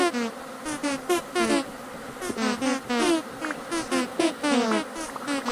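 Bees swarm and buzz around a beehive in the video game Vintage Story, a dense layered hum of wings with pulsing chirpy tones rising and falling continuously at close range.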